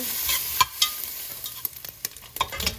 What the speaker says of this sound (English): To my pot over a high heat, I'm going to go ahead and get my bacon added in.